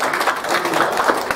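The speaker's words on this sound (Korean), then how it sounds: "우리 환영의 박수 한번 드리겠습니다." Church congregation giving a short burst of welcoming applause, a brief, moderately loud spatter of clapping.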